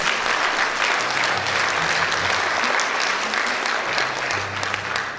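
Lecture audience at a Rotary Korea guest talk breaks into loud, sustained applause, a dense clatter of many hands that carries on for about five seconds, with a few faint voices underneath.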